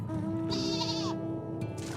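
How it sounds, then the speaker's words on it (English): A sheep mount in Final Fantasy XIV bleats once in a drawn-out, wavering cry over a low background hum, with a short second call starting near the end. "And I ride my sheep."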